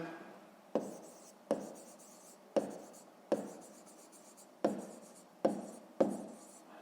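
Pen on paper writing numbers by hand for a fifth-grade maths exercise, heard as seven or eight separate short scratchy strokes in a steady rhythm, close and fairly quiet, with no talk.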